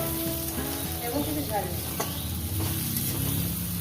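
Bele fish frying in a pan with chilies and salt, a steady close sizzle with light stirring scrapes throughout.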